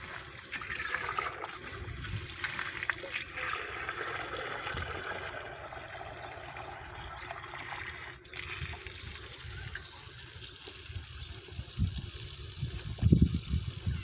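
Water pours and trickles out for an animal to drink, a continuous close splashing flow that shifts in force, with occasional faint voices in the background.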